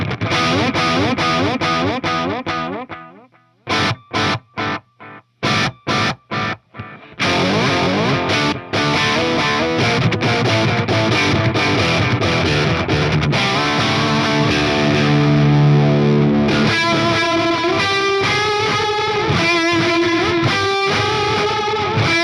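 Electric guitar played through a Walrus Audio Mako D1 delay pedal on its digital delay setting: chords and picked phrases with clean repeating echoes, a burst of short choppy strums with gaps, then sustained layered notes trailing off smoothly, no talking.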